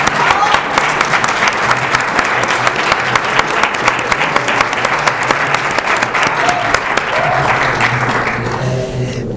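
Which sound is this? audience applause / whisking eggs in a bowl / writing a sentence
audience applause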